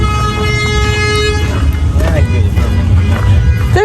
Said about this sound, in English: Does somebody honk back?